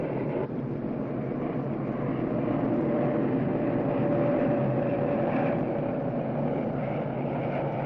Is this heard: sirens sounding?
no